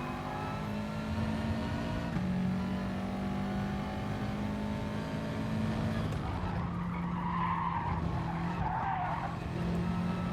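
A Renault Megane brakes and skids in the GT Sport racing game, a steady engine drone with sustained tire squeal and scrubbing that swells in the second half, loud and close.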